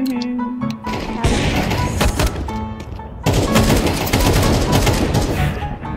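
Loud bursts of automatic gunfire from a teammate in Counter-Strike 2, a short burst followed by a brief lull and then sustained dense shooting with sharp impacts, close and dominant with no talk.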